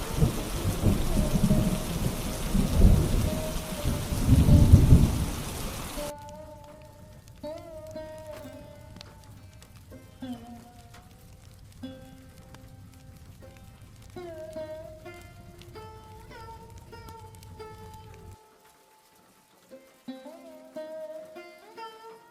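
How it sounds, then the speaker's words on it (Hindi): Heavy rain pours down with low thunder rumbling for several seconds, then gives way to soft melodic music. "अब बारिश की रफ्तार पहले से भी ज्यादा तेज हो चुकी थी।"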